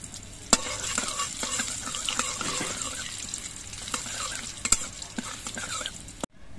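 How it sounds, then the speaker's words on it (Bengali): Two dried chillies, a little black cumin and crushed garlic sputter in hot oil, a continuous close crackling sizzle dotted with sharp ladle knocks and stirring scrapes, ending with a brief clatter and no talking. "এবার এই তেলের মধ্যে ফোড়ন দিচ্ছি 2টো শুকনো লঙ্কা, অল্প করে কালো জিরে, আর অল্প করে একটু থেতো করা রসুন।"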